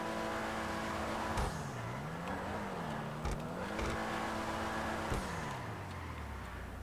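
A Dewbauchee Specter sports car in GTA runs with a sustained engine drone, its pitch rising and falling in smooth swells as the revs change, loud and alone with no voices.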